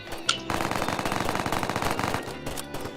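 Rapid automatic gunfire in a shooting video game, a loud, sustained burst of close shots in quick rhythm lasting almost three seconds after a single sharp opening shot.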